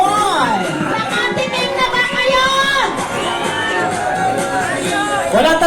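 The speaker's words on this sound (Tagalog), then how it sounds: "Isang malakas naman ang palakanan sa sigawan." A festival crowd cheers, whoops and shouts loudly and continuously, with children's voices mixed into the dense roar close by.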